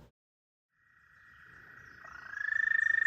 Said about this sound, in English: Hear lots of frogs around here. Those are gray tree frogs.